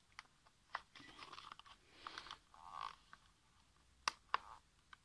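Tape-sealed package being opened, with scattered crinkles, tears and crisp peeling snaps, quiet and close, in irregular bursts between short pauses.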